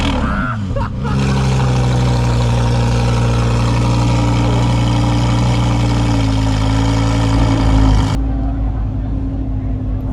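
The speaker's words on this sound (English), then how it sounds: "he just revved the R8 twice" Second-generation Audi R8 with a V10 engine revving at a supercar gathering in West Palm Beach, a loud steady roar that swells and holds close by before cutting off abruptly near the end, with crowd noise beneath.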